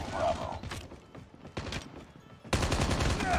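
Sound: gunfire in Call of Duty Mobile video game

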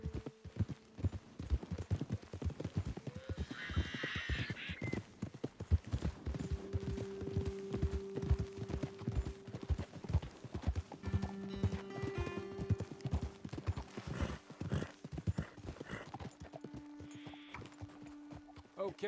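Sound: horse hooves clip-clopping, from the video game Red Dead Redemption 2

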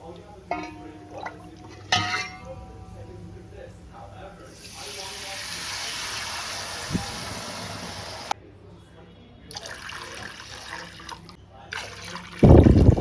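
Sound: water poured into fried masala for mandi rice

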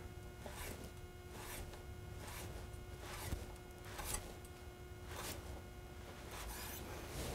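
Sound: knife cutting prosciutto into julienne matchsticks

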